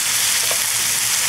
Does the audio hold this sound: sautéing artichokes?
yes